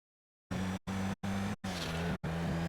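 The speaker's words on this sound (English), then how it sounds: "This truck is mad fast" A fast truck driven in the video game GTA V revs its engine in five separate loud bursts, each roaring for about a third of a second with brief gaps between, after a short silence, with no voices.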